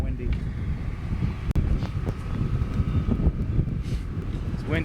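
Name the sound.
wind blowing into the microphone outdoors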